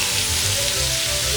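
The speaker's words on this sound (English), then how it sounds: "Now that our carrots and onions are all sauteed" Carrots and onions sautéing in a pan give a steady, close sizzle and fry, with faint clinks of stirring underneath and no talk.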